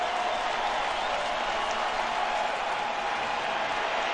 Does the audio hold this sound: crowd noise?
yes